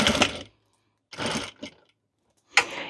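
A sewing machine stitches down the edges of a witch hat with cat ears, running in three short bursts with pauses between them, close and moderately loud.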